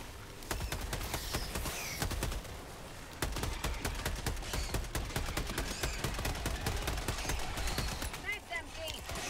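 Rapid bursts of gunfire crackle through a Helldivers 2 firefight in a video game, a dense run of sharp shots, with players talking over the shooting throughout.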